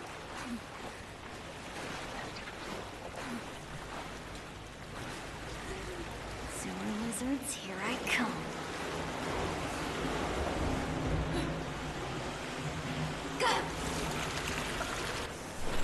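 Water flows and rushes through sewers in the Marvel's Avengers video game, a steady wash of broadband noise with swells and splashy surges, and brief vocal sounds over it in the middle.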